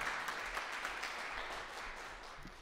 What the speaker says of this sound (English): I'll tell you his name, and then you can applaud